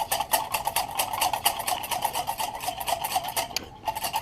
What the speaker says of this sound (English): I'm going to whisk them together.